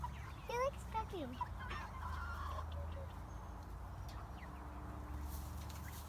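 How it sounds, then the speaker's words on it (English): Farm chickens cluck close by with quick bursts of clucking and chirping near the start, then fainter calls over a low hum as they peck, with a soft voice now and then. "Oh, he likes pecking."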